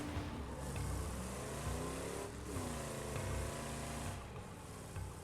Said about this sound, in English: This car is really loud